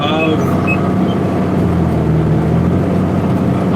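A tractor of roughly 140 to 150 horsepower, used for haymaking and pulling a 31-foot International chisel plow, runs with a steady, loud low engine drone throughout, with speech faintly present.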